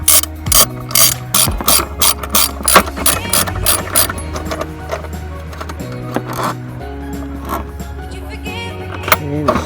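Ratchet wrench clicking as it turns 12 mm bolts during a cold air intake install on a Toyota MR2, with repeated bursts of sharp pawl clicks, loud and close, alternating with brief pauses.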